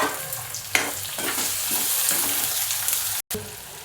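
Onion and tomato sauté in a hot pan for a snake gourd vegetable dish, giving a loud, continuous close sizzle broken by stirring scrapes and one brief dropout.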